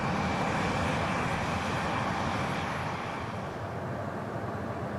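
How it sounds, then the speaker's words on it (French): A rented private jet gives a steady, full jet engine roar that fills the space, loud and constant and fading slightly toward the end. "Il a loué un jet pour l'occasion."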